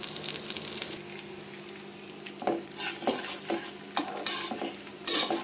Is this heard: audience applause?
no